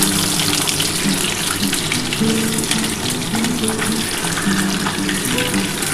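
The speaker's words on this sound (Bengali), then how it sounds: "বন্ধুরা দেখো আমার হালকা করে ডিমটা আমি ভেজে নিচ্ছি" Duck eggs fry lightly in hot oil in a home kitchen, a steady, fairly loud sizzle and hiss that continues without pause, with a faint hum running underneath.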